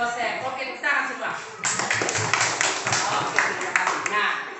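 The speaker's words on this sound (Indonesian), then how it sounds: "Oke, tepuk tangan semua." Children clapping together in a classroom, a loud scattered burst of many small hands applauding after a teacher's question about Jesus's birth, with voices mixed in.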